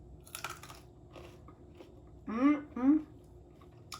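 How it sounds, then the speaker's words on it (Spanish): Oven-baked potato wedges cooked with olive oil crunched between the teeth up close, a few crisp bites followed by soft chewing, with a voice speaking briefly in between. "¿Escuchaste eso? Crujienticas, como si fueran unas papas fritas, pero no lo son."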